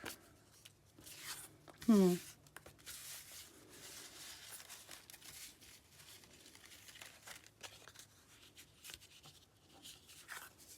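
Sheets of craft paper rustle and crinkle on a table while journal-making supplies are dug through, with scattered soft handling noises and one sharper scrape early on.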